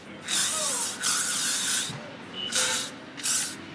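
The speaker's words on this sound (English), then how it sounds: "I'm just gonna begin spraying this on both sides" Close, hissing bursts of aerosol hairspray, four separate sprays of about a second each with short pauses between them.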